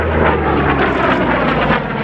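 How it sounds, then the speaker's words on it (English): A loud, roaring radial aircraft engine, an 18-cylinder R-2800 on an FG-1D Corsair fighter in a steep dive at an air show, drones steadily and close, a dense rumble with no pauses. "here's a big dive. That big two-ton engine on the front of the airplane pulling it down."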